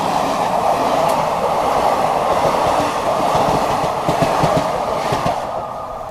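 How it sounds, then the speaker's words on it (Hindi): A summer special train passes alongside on the next track in a loud, steady rush of wheel and carriage noise with rapid rattling clatter, easing off slightly at the end. "कोई समर स्पेशल ट्रेन अभी बगल से क्रॉस हुई है।"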